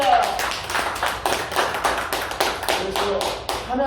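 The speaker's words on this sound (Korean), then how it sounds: "우리 박수합시다." A church congregation claps in a fairly steady, loud rhythm of distinct hand claps, close and punchy, with some voices faintly underneath.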